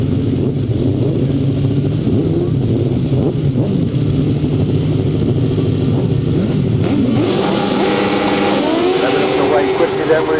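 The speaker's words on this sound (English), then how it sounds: "on we go then to the 1000cc sidecars" 1000cc sidecar motorcycles race on a grasstrack, their engines droning and revving continuously with rising and falling pitch as they pass, while a commentator talks over the racket.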